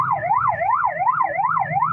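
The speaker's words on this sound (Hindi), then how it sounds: "बेटा थोड़ा पीछे हो जाए, रास्ता दो एम्बुलेंस को" Wailing ambulance siren sweeping up and down in a steady rhythm, loud and close, over a low traffic rumble at a congested chowk in Fateh Jang, Attock.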